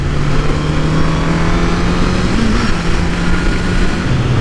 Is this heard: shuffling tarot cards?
no